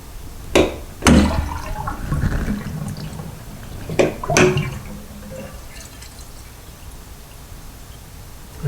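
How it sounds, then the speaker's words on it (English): Water running out through a bathroom sink pop-up drain, with a couple of sharp plunger clunks followed by gurgling, trickling flow close by, no talking. "Push it and let it drain out."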